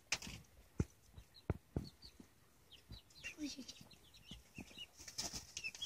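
Close-up bursts of wing flapping and scuffling, with soft clucks and chirps from several chickens scattered throughout.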